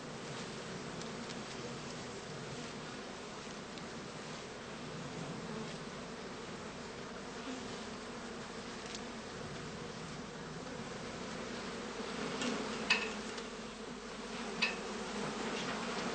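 Honey bees buzz steadily and densely around straw skep hives, a constant close drone with no talk.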